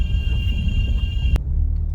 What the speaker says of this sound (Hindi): बहुत शोर मचा के जा रहा था ये गाड़ी वाला